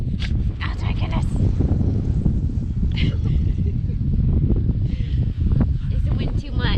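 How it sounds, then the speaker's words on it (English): Wind buffets a microphone outdoors with a steady, loud low rumble and gusting roar throughout, while a person talks over it. "Is the wind too much?"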